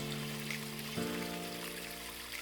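A small waterfall in a garden pond gives off a soft, continuous trickle and splash, faint and even throughout, with a steady low hum underneath.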